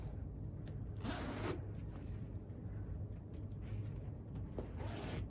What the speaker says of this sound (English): connect these two together, and zip this across